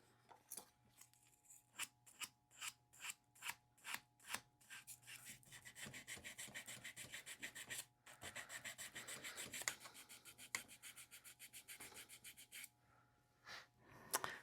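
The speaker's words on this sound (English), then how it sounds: "And now we're going to do a little sanding." Hand sanding a carved wooden sea dog figure: a quiet, rhythmic series of rasping rubs, short strokes at first, then longer continuous scrubbing with brief pauses, close and alone.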